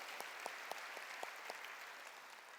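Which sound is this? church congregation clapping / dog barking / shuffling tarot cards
church congregation clapping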